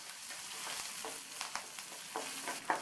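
Onion, curry leaves, whole dried chillies and asafoetida sautéing in hot oil for a chow chow dish, a soft steady sizzle with a few scraping stirs of a spoon against the pan, fairly quiet and close.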